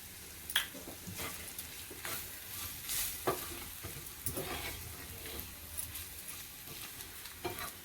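Mutton liver masala is sautéed in a pan, producing a soft continuous sizzle broken by repeated scraping stir strokes at an uneven rhythm, heard close but at a fairly low level with no talk.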